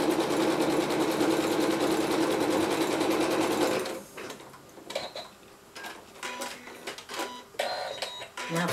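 A sewing machine stitches stocking lining together in a fast, steady mechanical whir for about four seconds, then stops, leaving scattered small clicks and handling noises.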